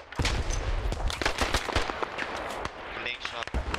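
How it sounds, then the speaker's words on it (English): Enemy mortar fire in the military shooter Squad mixes with dense gunfire, giving a rapid series of loud, sharp blasts and cracks, close and continuous throughout. "Oh, I hear their mortars."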